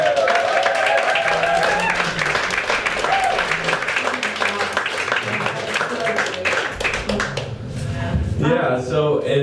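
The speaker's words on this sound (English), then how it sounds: "So why doesn't everybody give a round of applause?" About fifty or sixty people at an agorist networking party clap together, a busy, close burst of applause with voices and cheers mixed in, thinning out near the end as talk takes over.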